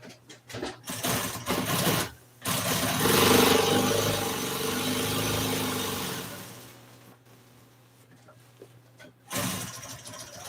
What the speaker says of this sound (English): So, I'm going to sew around it.